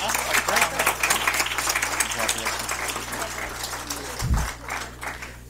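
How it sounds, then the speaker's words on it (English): Audience applause at a school district meeting, dense clapping running steadily throughout and fairly close, with a brief low thump near the end. "Let's give him a big round of applause."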